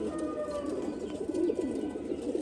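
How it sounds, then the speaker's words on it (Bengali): A female racing pigeon from a pigeon club coos softly and continuously, a low close murmur with gentle pulsing rolls and no talk over it. "এটা তো মাদি কবুতর"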